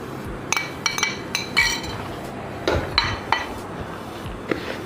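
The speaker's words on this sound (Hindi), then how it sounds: "इन सबको जो है मैं मिक्स कर लूँगी" Chilli, salt and turmeric being mixed for lasoora pickle, heard as irregular close clinks and taps of a spoon against a metal or glass bowl over a quiet room, with no talk.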